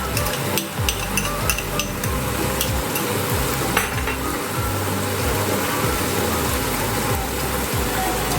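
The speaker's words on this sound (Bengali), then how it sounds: "এটা দিয়েও কিছুক্ষণ নাড়াচাড়া করে নিতে হবে।" Spices and poppy seed paste stirred in a pan for a chicken dish with dried fenugreek, a dense, constant sizzle and scraping with repeated light spoon taps, close and fairly loud.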